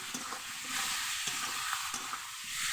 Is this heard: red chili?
yes